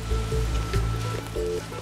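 A waterfall in the Far Cry 6 game world rushes with a steady watery wash, accompanied by low rumbling and some faint tonal game sounds.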